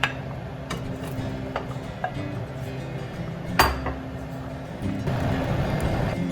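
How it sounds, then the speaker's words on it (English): Cubed squash dropped into a pot of green curry: a few close metallic clinks and one heavier clatter of utensil against pot, followed by a soft, rising bubbling rustle. "we're gonna add the squash"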